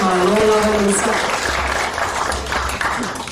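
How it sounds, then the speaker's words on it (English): At the 2018 Samoa Export Awards ceremony, the audience applauds Mr. Collins: a brief voice opens, then a crowd's clapping spreads as an even, moderately loud wash for a few seconds. "a round of applause once more for Mr. Collins"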